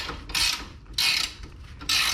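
Three quick ratcheting bursts from a wrench tightening bolts on the rear knuckle of a 2011 Lincoln MKS, close and crisp, separated by short pauses.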